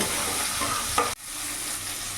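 Cauliflower pieces fry in oil with salt and turmeric while being stirred, a steady close sizzle broken by a scraping stir, a brief clatter and a momentary dip before the frying noise resumes.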